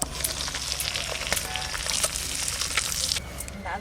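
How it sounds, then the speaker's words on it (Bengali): Duck eggs sizzle in hot oil in a pan as they are turned, giving a loud, dense crackle with scattered pops and spatula scrapes close by. "ডিমগুলো একবার করে উল্টে দেব"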